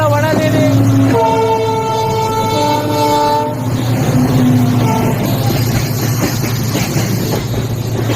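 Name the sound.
train passing at high speed near Dudhsagar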